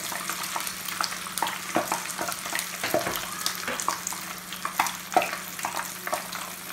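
Brik pastry filled with minced meat and egg fries in hot oil, giving a steady crackling sizzle with small pops and bubbling throughout.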